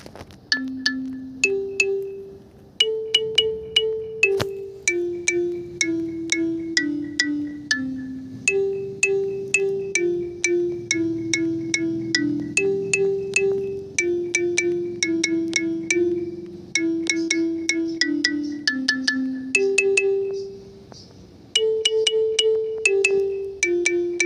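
A plucked kalimba plays a melody alone, bright chiming notes ringing over a soft low accompaniment, steady and close for the whole stretch.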